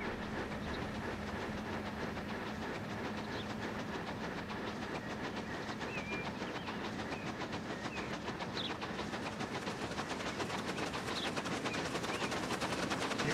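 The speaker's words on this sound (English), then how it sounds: "is that the train coming the other way?" In the video game Transport Fever 2, on a UK railway, a train passes with a steady, loud rumbling clatter of wheels over rails that continues without a break, and no one speaks.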